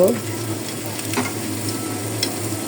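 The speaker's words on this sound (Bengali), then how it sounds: "চুলায় একটি ফ্রাই প্যান বসিয়ে তেল দিয়েছি তেলটাও গরম হয়ে গিয়েছে" Shrimp fritters made with flour and gram flour frying in hot oil in a frying pan on the stove give off a steady close sizzle and crackle, continuous and moderately loud, with a low hum beneath and no talking.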